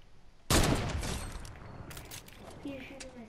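Gunfire in a shooting video game erupts as a loud burst of shots followed by scattered further shots and game sounds, moderately close, with people talking over it.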